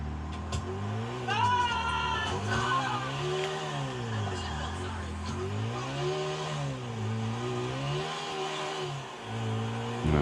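A car engine in GTA 4 Online on PS3 drones steadily, its pitch rising and falling in repeated rev cycles as the car is driven, with a few faint background noises.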